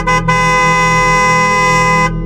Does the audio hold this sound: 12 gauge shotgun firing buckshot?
no